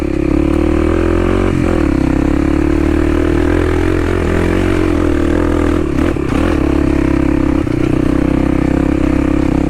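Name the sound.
Kawasaki KLX 300 dirt bike with loose skid plate rattling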